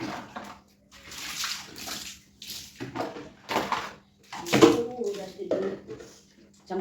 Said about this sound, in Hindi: झाड़ू को पानी से छत में डाल दीजिए बस